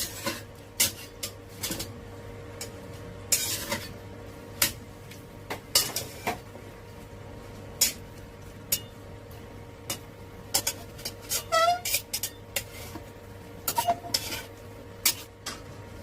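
Mushrooms and goose feet being stir-fried with oyster sauce and sugar in a pan, heard as scattered sharp clinks and scrapes of a utensil against the pan over a low steady background hum, with no talking.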